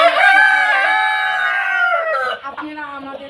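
Chickens on a poultry farm where they are fed paddy, with a loud, drawn-out rooster crow sustained for about two seconds, then quieter clucking close by.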